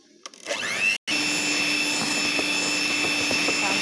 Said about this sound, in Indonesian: Kita mixer lagi